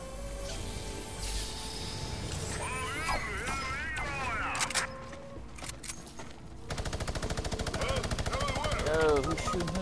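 Video game gunfire, rapid automatic bursts and scattered shots crackling over a busy game soundscape, with players talking throughout.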